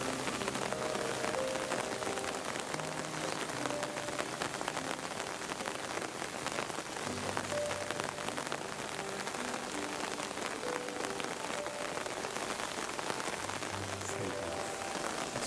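Steady rain pattering across a rose garden at a flower festival on a wet day, a dense, even hiss of drops on leaves and surfaces lasting throughout, with no voices.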